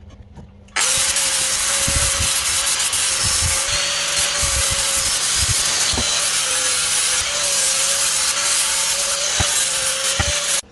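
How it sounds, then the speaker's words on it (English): A steel anti-roll bar from a Mk3 Golf GTI front subframe is sanded back with 120 grit paper, giving a loud, continuous abrasive hiss that starts abruptly and runs with a few scraping knocks. "all sanded with 120 grit, so the paint has something to stick to"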